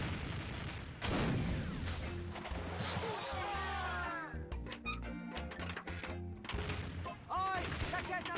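A self-loading cannon firing in a video game, booming shots and echoing blasts amid loud battle noise, with a voice talking over parts of it.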